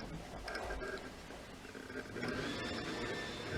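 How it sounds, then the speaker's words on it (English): A vacuum cleaner runs somewhere nearby in a home, a continuous broadband whooshing drone that holds steady throughout, slightly muffled by distance. "And someone is vacuuming, apparently."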